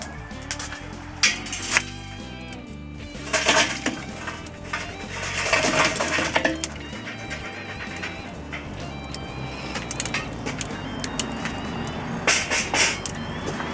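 Lit charcoal tumbling from a chimney starter into a Char-Griller Akorn kamado grill, a scattered clinking, rattling clatter of coals against the ceramic-style bowl, with bursts of louder pieces amid steady lighter jingling.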